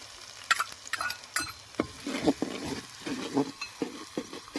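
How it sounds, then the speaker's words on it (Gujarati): Onions frying in a pan for a Kathiyawadi sev aloo curry, with soft sizzling and repeated stirring scrapes and clatters in uneven bursts, close and moderately quiet, with no talking. "હવે ડુંગળીને મસ્ત પાકવા દેવાની છે આપણે."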